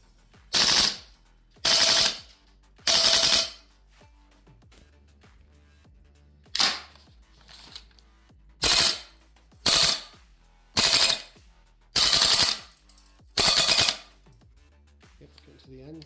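A VFC XM177 E1 gas blowback airsoft carbine fires nine short, sharp bursts of rapid shots, close and loud, separated by quiet gaps while the gas is running low. No one speaks.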